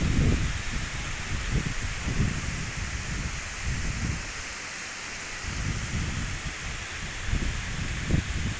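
Steady roaring wind blows hard and continuously, with gusty rumbles buffeting underneath the broad whooshing noise.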